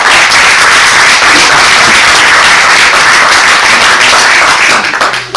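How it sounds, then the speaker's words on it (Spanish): A studio audience gives a professor loud, sustained applause at a university radio broadcast. The dense clapping holds steady throughout and thins slightly at the very end. "de expresar el aplauso que teníamos guardado"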